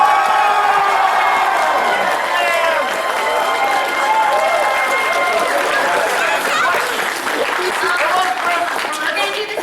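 A crowd at a BronyCon fan convention panel applauds and cheers loudly, a thick roar of clapping mixed with whoops and shouting voices that stays strong throughout and swells toward the end.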